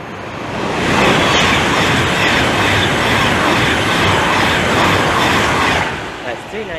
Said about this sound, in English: the 12:15 Virgin train service from Edinburgh Waverley to London Euston